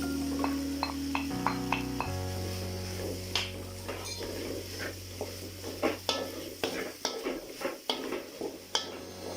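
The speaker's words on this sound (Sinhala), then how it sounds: "මඤ්ඤොක්කා තෙම්පරාදුව හොඳින් කලම් කරගත යුතුයි." Tempered cassava filling for patties being stirred in a pan, with a low sizzle under a run of quick spoon scrapes and metallic taps that grow busier toward the end, close up with a steady background hum and no talk.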